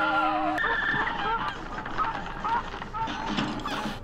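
Cartoonish geese honking in the video game Cuphead: The Delicious Last Course, a run of squawky honks mixed over busy game music and effects, with someone talking throughout.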